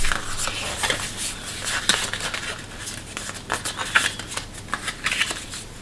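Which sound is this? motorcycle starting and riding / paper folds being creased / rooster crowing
paper folds being creased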